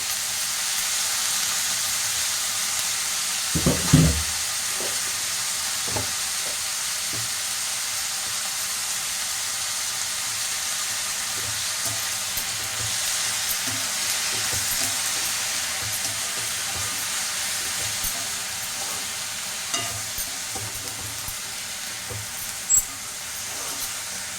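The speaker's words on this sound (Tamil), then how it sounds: "எண்ணெயில் வதக்கிட்டோம்னால நல்லாயிருக்கும், டேஸ்ட்டாக இருக்கும்." Tamarind and mint sauté in hot oil in a pan with a steady, close sizzle and hiss that runs throughout, broken by a few soft knocks from stirring and no voices.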